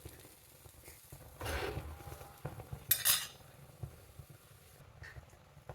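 A ladle scrapes and clinks against a pan over a low flame while a fruit-and-nut cone snack is cooked with ghee; the metallic taps are quiet and sparse.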